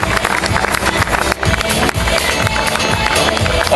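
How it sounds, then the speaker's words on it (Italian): Crowd at a rally award ceremony on the finish podium applauding and cheering, a loud, dense roar of clapping and voices sustained throughout with brief dips. "e qua chiederei un applauso"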